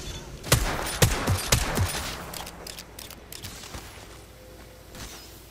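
Gunfire in the Apex Legends video game: a quick string of sharp, loud shots in the first seconds, then quieter distant pops and mechanical clatter that fade away.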